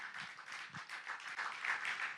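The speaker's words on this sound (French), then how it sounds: "Très bien, applaudissez pour lui." Audience at an awards ceremony applauding: continuous crowd clapping at moderate volume, a steady bright patter throughout with only faint murmur beneath.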